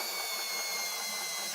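A power drill spins steadily under load, driving a mechanical camper jack to lift a truck camper, giving a continuous close whirring grind with no pauses.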